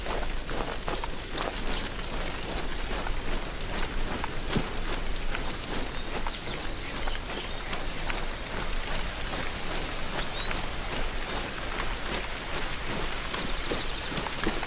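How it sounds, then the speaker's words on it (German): Steady rain pours down in the hunting game Hunter: Call of the Wild, a dense continuous hiss filling the whole scene, with faint footstep-like crunches mixed in beneath. "Jetzt regnet es natürlich"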